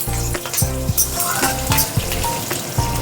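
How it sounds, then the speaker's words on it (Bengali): Steady sizzling of nigella seeds and green chillies frying in hot oil, with a few light clinks of a utensil against the pan. "তেলের মধ্যেই আমি এই যে একটু কালো জিরে আর এই কটা কাঁচা লঙ্কা ফোড়ন দিলাম"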